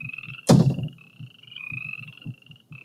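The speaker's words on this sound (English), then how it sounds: "we've got the frog will carry on making that noise when we click on it" A frog croaks in a short burst of loud, close calls followed by softer repeated croaks and a steady high chirping in the background.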